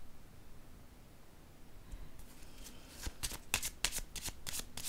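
Tarot cards being shuffled by hand, starting softly and building after a few seconds into a run of crisp, rapid riffling bursts, close and alone with a faint hiss of room noise beneath.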